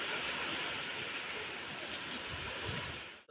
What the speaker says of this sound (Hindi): खूब बारिश है, साथ में तूफान भी है,